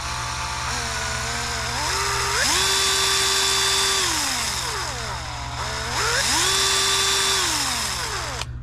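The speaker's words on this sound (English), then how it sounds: "depending on how hard you pull the trigger will depend on how fast the drill spins" Bosch 12V cordless drill spinning freely as the trigger is squeezed, its motor whine climbing to a steady high pitch, holding, then winding down, repeated twice, close and loud with no talk.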